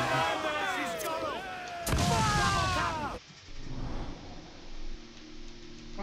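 Ship cannon fire in the video game Assassin's Creed IV Black Flag, heavy booming blasts and crashes mixed with shouting voices and game music, followed by quieter rumbling.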